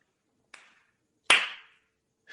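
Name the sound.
applause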